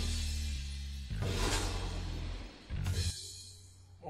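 Glass shatters in an anime scene with a sharp burst of breaking and a whooshing sweep, followed by another crash near the end, loud over a low music bed.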